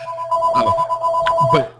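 A loud electronic phone ringtone plays alone as a short, bright melodic burst of repeated tones, about two seconds long.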